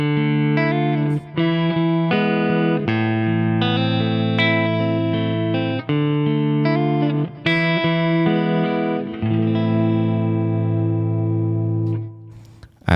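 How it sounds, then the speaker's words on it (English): A clean electric guitar part from a song, played loud and close with effects: sustained chords and ringing arpeggiated notes shifting every second or so over a steady low foundation, with a brief dropout near the end. "So I start with the clean guitar parts."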